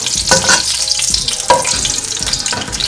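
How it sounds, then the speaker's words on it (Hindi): Two green chilies sautéing in hot oil: a steady, close sizzle and crackle of frying, broken by a few stirring scrapes, with no talking. "ये 2 हरी मिर्च है, इनको बस हल्का सा सौते करूँगी मिर्चों को, ताकि इसके अंदर ऑयल के अंदर इनकी खुशबू आ जाए।"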